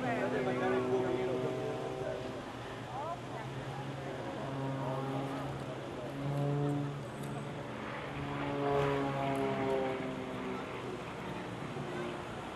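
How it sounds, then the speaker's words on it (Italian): A classic Czechoslovak aerobatic propeller airplane flies overhead during an air show at Lovere, its engine droning and rising and falling for several seconds as a commentator talks over it. "un aereo classico acrobatico cecoslovacco"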